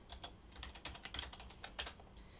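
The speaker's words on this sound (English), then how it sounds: "You can always type it yourself if you want to." Quiet, steady clatter of fingers on a computer keyboard, a run of closely spaced key clicks with no one speaking.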